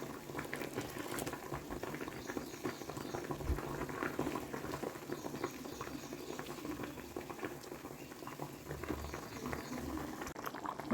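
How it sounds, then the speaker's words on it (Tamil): A pot of kola urundai kuzhambu, a tangy curry with meatballs, bubbles and simmers steadily at close range, its soft popping and liquid patter continuing alone throughout. "நல்லா கொதித்து கொஞ்சம் குழம்பு வற்றினதுக்கப்புறம் நம்ம இறக்கிக்கலாம்"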